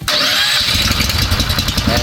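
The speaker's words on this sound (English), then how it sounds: "Now we want to check to make sure our engine's going to start" A Sweep-All PSE engine starts with a key crank, catching at once into a loud, continuous running roar close by.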